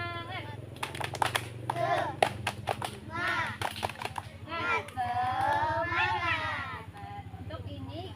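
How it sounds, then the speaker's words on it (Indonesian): A school class in Indonesia performs a rhythmic clapping cheer, short bursts of quick claps broken up by children chanting in unison over a low steady hum. "Kita tepuk semangat dulu."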